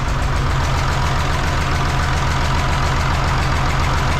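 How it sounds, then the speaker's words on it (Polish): A URSUS C3603P tractor engine idles continuously and loudly at a steady mid pitch, with a regular knocking pulse and no voices. "traktor chodzi"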